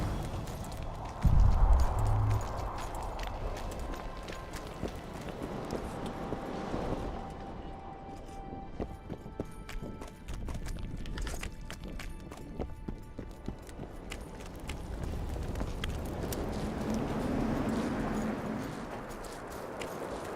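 A horse galloping in The Witcher 2, a continuous run of rhythmic hoofbeats in the game's outdoor world over a low ambient rumble, with a brief louder thump near the start.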